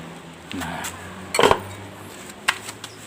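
A metal lid is lifted off a pot of boiling catfish soup: a loud clattering clank in the middle, with lighter clinks before and after over a steady background hiss.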